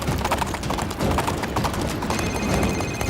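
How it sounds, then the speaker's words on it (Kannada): A wild horse's hooves pound in a fast, steady galloping rhythm, close and loud throughout, with faint scraping and movement noise layered over the beats. "ಬಿರುಗಾಳಿ ಒಂದು ಕಾಡು ಕುದುರೆ, ಅದಕ್ಕೆ ಬೆಲ್ಟಿನ ಅವಶ್ಯಕತೆ ಇಲ್ಲ"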